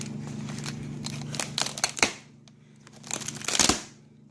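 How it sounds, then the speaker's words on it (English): A knife cuts into hard plastic bubble packaging for an HLG 550 LED grow light clone, giving close crinkling crackles and sharp snaps in two clustered bursts separated by a quiet pause. "Some kind of hard bubble pack type thing. So we'll knife her up and get it open."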